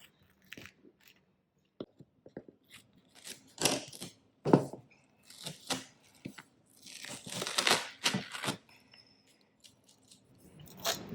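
Flex Super Wide duct tape being handled and cut into a 9-inch sheet: a run of close, crisp crinkling, tearing and snipping bursts, irregular and uneven in loudness, with no one talking.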